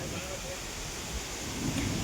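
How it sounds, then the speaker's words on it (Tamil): Rain falling steadily outdoors with a low rumble that may be distant thunder, a constant wash of noise throughout. "மழை வந்துடுச்சு ஃப்ரெண்ட்ஸ்."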